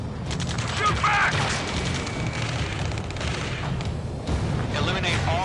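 A video game firefight roars with dense, continuous gunfire and booms, while voices shout over the battle throughout.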